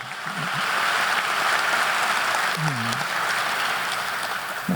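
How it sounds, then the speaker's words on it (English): Audience applause at a college basketball coach's introductory press conference, a steady, dense wash of clapping that sounds like rain and holds evenly for the whole clip. "Let's give him a round of applause."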